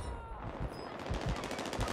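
Rapid gunfire bursts in the video game Call of Duty Warzone, quick repeated shots at moderate level, faint behind the game's ambience.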